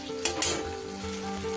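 Spice masala frying in oil in a pan, a continuous bright sizzle with a couple of sharp spitting pops early on, close and steady, with no talk.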